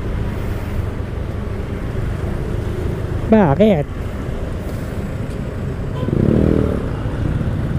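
Heavy road traffic noise near the Makati Mandaluyong Bridge, where a motorcycle filters between cars, a continuous low engine rumble with wind buffeting, a brief spoken word in the middle and a louder surge toward the end.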